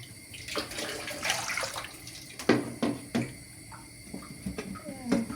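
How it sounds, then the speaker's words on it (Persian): Three glasses of water splash and pour steadily into a cooking pot for making ash soup, close by, with a few clinks and knocks of cookware mixed in. "ابتدا میایم 3 لیوان آب داخل قابلمه میریزیم"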